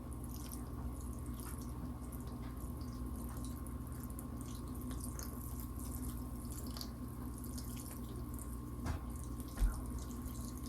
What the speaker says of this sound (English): Then I'm just gonna pour it over top.